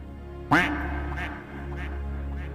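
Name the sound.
duck quacking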